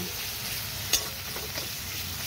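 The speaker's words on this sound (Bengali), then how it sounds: "এবার এটাকে আমি ভালো করে মশলাগুলোকে আমি ভেজে নেব" Steady sizzling of spices frying in a pan for rohu fish curry (kalia), with one sharp clink of a utensil partway through.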